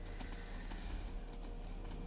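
A horse's hooves clip-clop at a steady walking rhythm in the video game Skyrim, heard close and continuous over a low background hum, with no voices.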